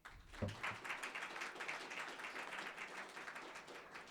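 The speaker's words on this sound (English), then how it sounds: "So can we give them a round of applause?" An audience at a Vail workshop on near-death experiences applauds, a faint, even patter of many clapping hands that goes on steadily without voices.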